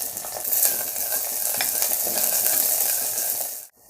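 Chopped onion hits hot oil with mustard seeds and crushed garlic for village-style puli kulambu, a dense continuous sizzle with stirring that cuts off abruptly near the end, no talking.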